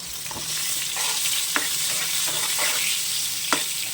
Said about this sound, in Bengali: পটলগুলো লাল লাল করে ভেজে নেব